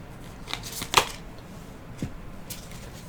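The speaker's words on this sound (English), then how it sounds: "I'm going to grab 3 cards." Tarot cards shuffled and drawn from a deck, a few soft papery riffles and flicks with one sharper snap near the start, close by and quiet, no voices.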